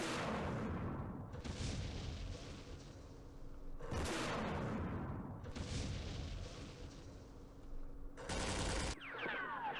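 Recoilless rifle firing in the Campaign Series Middle East war game, Battle of Jerusalem, heard as three loud, sharp reports spaced a few seconds apart, each followed by a long rumbling decay of battle noise.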